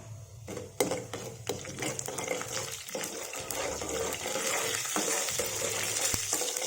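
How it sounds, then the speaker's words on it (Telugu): Cumin seeds sizzling and crackling in hot oil in a pan while cooking a cabbage and potato curry, a steady frying hiss with occasional sharp pops and stirring clatter, fairly close. "జీలకర్ర వేగింది, చిట్చిట్లాడాలి కంపల్సరిగా"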